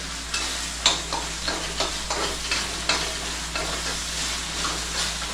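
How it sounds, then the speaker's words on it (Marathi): Ginger garlic paste sizzles and fries in a hot pan of oil, with steady crackling hiss and repeated stirring scrapes at close range, no voices over it. "आता मी इथे जरा आलं लसूण पेस्ट टाकतो"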